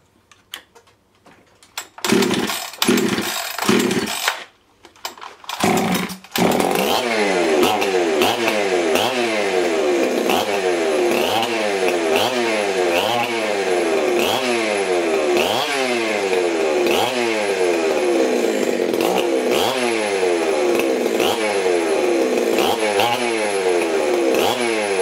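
Husqvarna 365 hot saw chainsaw engine starting after a few sputters and pulls, then running steadily at high revs, loud and close, with a rhythmic pulsing whine throughout.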